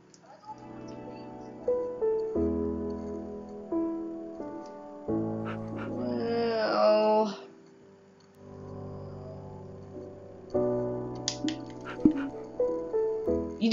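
A dog in the video game Minecraft on Xbox One gives a short whining yelp midway through soft, steady background game music that plays at low volume.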